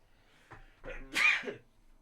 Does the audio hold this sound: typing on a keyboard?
no